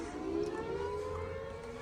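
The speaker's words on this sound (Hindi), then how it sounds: "अंदर सायरन की आवाज़ आ रही है" A siren wails steadily inside a World War II bunker in the United Kingdom, its drawn-out tone echoing in the enclosed concrete space, with a low hum beneath.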